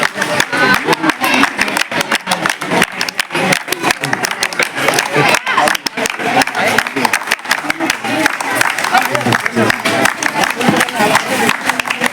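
Students at a school clap together to welcome guests, a dense, continuous patter of many hands at a steady loud level from start to finish.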